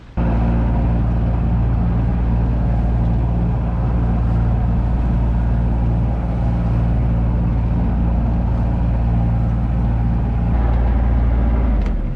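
A sailboat motoring under engine on a calm ocean gives a steady, loud drone with a deep low rumble, continuing unbroken throughout with no other sounds.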